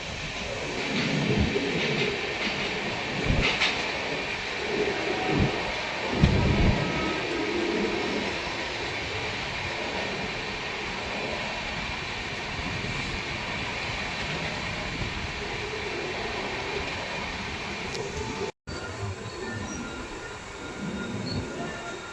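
A 19604 Godda express train runs alongside another train in a parallel overtake, with a steady loud rumble and rail noise, scattered wheel squeal and clanks, and a brief dropout near the end.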